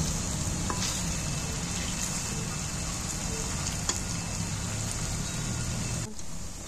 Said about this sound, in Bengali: আমার সব কোটা ভাজা হয়ে গেল তেলে।